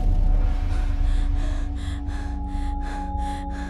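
A man pants hard and out of breath, with rhythmic, quickening gasping breaths close up, alone and without words, over a low music bed in a Hindi moral story.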